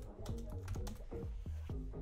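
Quick, light keystrokes on a computer keyboard, about eight separate clicks in an uneven typing rhythm, close and fairly quiet.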